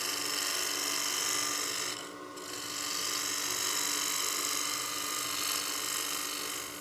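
A gouge riding the bevel on a spinning wood lathe while turning a coin box, a steady, loud high whirring hiss with a brief dip partway through as the cut eases, no talk.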